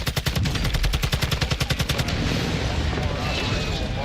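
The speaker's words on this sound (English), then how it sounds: "Friendly airstrike on the way." Rapid automatic gunfire in the Call of Duty DMZ game, a fast loud burst of evenly spaced shots for about two seconds, giving way to a dense rumbling barrage of explosions and crackling from the friendly airstrike.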